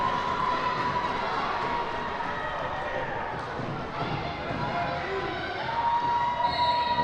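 A crowd in a volleyball gym roars in a sustained, dense din at a stockton match, with shouts and sneaker squeaks mixed in throughout.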